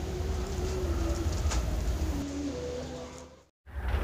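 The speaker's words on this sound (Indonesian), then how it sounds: "pantauan kita terhadap perkutut-perkutut yang ada di kandang kotak" Zebra doves (perkutut) cooing from a box cage, soft repeated coos over a steady low background hum, continuous for a few seconds before a brief cutout near the end.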